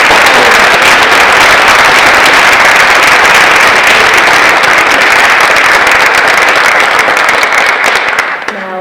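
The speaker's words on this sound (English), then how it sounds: "I welcome everyone to applaud" Loud, dense applause from a large audience at a 2022 NHS ceremony, steady sustained clapping that carries on for several seconds before tapering off at the end.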